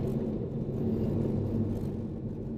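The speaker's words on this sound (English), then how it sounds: "You can just hear the engine sucking in the air" Stage 2 tuned Audi TT mk2 engine drawing in air, a steady low rumble with a hollow intake drone that holds constant throughout, no voices.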